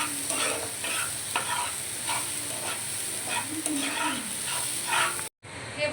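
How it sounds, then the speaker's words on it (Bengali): Ginger paste being stirred into a cooking mung dal mixture, a soft sizzle under repeated scraping strokes of a spoon, steady and close, cut off by a brief silence near the end. "এবার এতে আমি আদা বাটা দেব। আদাটাকেও এর সঙ্গে ভালো করে মিশিয়ে নেব।"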